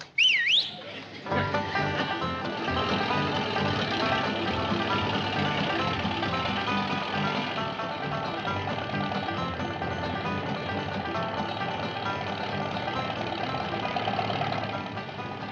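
A steady engine drone runs throughout as a car cruises along a freeway, with a brief whistling tone at the very start.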